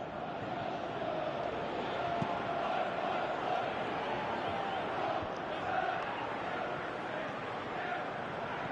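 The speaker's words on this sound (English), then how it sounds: "you can hear how the crowd are reacting to this too." Stadium crowd noise in a PS4 football video game, a steady distant roar and murmur running throughout beneath commentators' voices.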